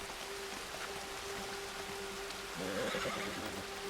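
A horse in the video game Red Dead Redemption 2 gives a brief, faint whinny partway through, heard over a steady, hissing rain-like ambience.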